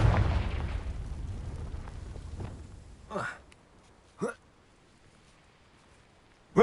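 Fire blast spell explosions in Hogwarts Legacy: a big boom that rumbles and fades, then two sharp separate bursts about a second apart and another blast cut off at the end, against quiet in between.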